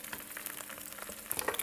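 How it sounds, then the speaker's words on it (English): An egg frying in a pan after a pinch of salt, with a spatula moving it around, gives a steady close crackle and hiss, with brighter pops near the end and no talk. "Now the cool thing about frying an egg is you're getting like kind of the meatiness of the white and you're getting the yolk."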